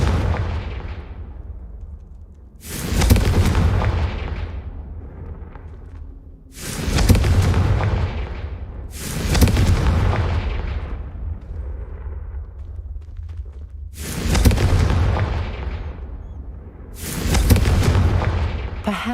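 Five or six loud, booming spell explosions from the Confringo fire spell in the Hogwarts Legacy video game, each a sharp blast with a long decaying rumble, spaced a few seconds apart.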